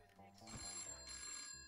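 Telephone ringing in the video game Christmas Shopper Simulator, a short electronic ring with bright repeating high tones, heard under someone talking over game sounds.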